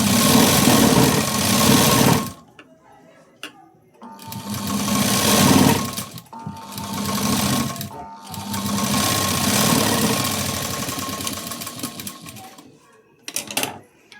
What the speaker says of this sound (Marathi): बरोबर मॅच करायचा आणि बरोबर शिलाई देऊन घ्यायची